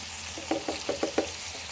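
Chicken with turmeric and salt sizzles in a pan while a spoon stirs it in a quick run of five or six rhythmic scraping strokes over a low steady frying hiss.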